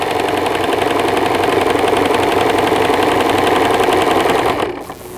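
Home sewing machine running steadily as fabric is fed through and held taut, a dense even stitching whir close and loud for nearly five seconds before stopping abruptly.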